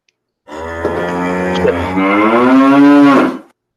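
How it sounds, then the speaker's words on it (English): One long, loud cow moo, played as a hint during a religious debate, lasting about three seconds with a steady low drawn-out tone that rises slightly near the end before stopping abruptly. "Calf, a cow, you know, chapter of the cow."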